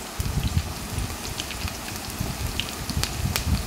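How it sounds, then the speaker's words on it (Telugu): Brinjal pieces fry in hot oil in a pan for a brinjal, egg and tomato curry, giving a steady, close crackling sizzle with scattered pops and no talking. "చూస్తున్నారు కదండి, చక్కగా ఫ్రై అవుతున్నాయి కదా"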